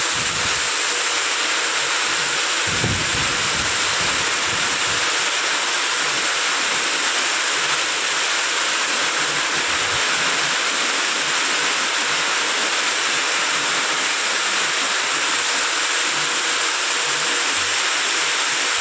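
Sudden heavy rain driven by strong wind pours down over open fields where goats graze, a dense continuous roar of hissing water with low gusty rumbles, loud and unbroken.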